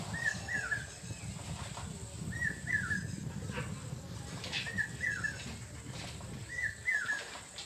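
Common hawk-cuckoo, the brain fever bird, calling four times at regular intervals of about two seconds, each a clear rising phrase of a few notes heard at moderate distance over low background rumble.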